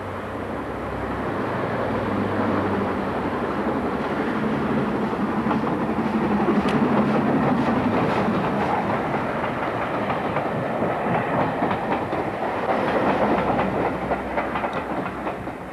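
A preserved LMS steam locomotive in 1930s maroon livery runs on the Great Central Railway, a steady rumbling roll with faint rhythmic clatter of wheels on track, sustained and fairly distant, no voices.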